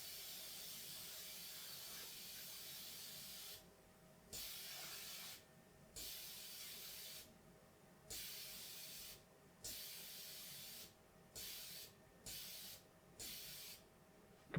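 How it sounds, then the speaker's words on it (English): A leaking pneumatic solenoid valve on a CNC mill releasing compressed air, a steady loud hiss that keeps switching off and back on in uneven bursts as the valve is toggled. "It's leaking quite a lot of air right now, but it still works"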